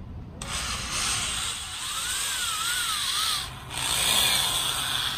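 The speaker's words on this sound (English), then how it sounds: "Going to drill these rivets out so we can reuse these connectors here" Drill boring out rivets on a Catalina 22 sailboat's bimini top frame, a steady grinding, rubbing whir running close and loud for several seconds with a brief dip before picking back up.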